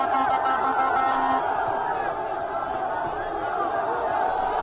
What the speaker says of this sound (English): During the demonstration, the crowd waved Russian and Niger flags.